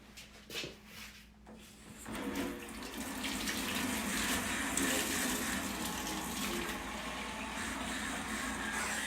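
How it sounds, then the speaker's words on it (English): Hot tap water runs at a sink and fills a container with a steady, broad rushing hiss. A few clunks come first, then the flow holds constant and fairly loud. "I'm going to fill it up over here at the sink with some hot water."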